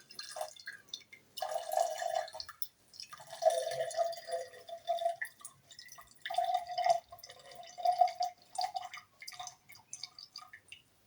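A drink is strained into a glass, producing faint, intermittent trickles and drips of liquid in short bursts with brief pauses between them, close by and quiet.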